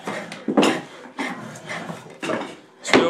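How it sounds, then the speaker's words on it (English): A drawknife shaves down wooden barrel staves at a cooperage, giving a series of five or six close, raspy scraping strokes with a short woody rub on each pass. "there's Paul shaving down one of the staves"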